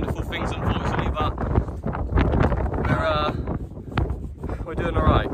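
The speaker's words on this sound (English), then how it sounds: "Just a bit windy, yeah." Wind buffeting the microphone in gusty rumbles while people talk over it, outdoors on a long run across Wales.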